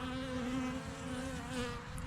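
A steady honeybee buzz hums close by at a hive inspection, a continuous droning whine that holds without pause.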